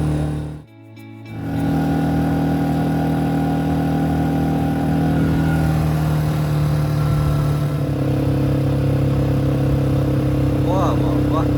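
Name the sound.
motorbike being ridden by the sea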